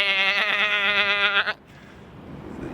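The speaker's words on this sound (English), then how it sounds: "You're gonna hear my goats." Goats bleat in a long, loud, wavering cry close by, then it cuts off into quiet outdoor ambience and light wind on the waterfront in Oslo, Norway.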